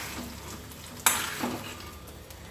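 Potatoes frying in oil are stirred in a pan for a potato and spinach curry, a steady sizzle broken by a sharp scrape of the spoon and a second stirring sweep, with no talking.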